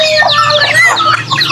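Native chickens cluck and chirp in a loud, close, busy flurry while being fed a rice mix with vegetables and beef, overlapping calls rising and falling with no talk.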